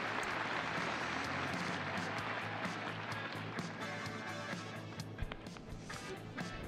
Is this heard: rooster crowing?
no